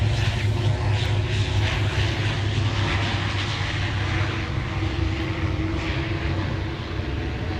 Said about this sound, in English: An RFDS B200 coming in.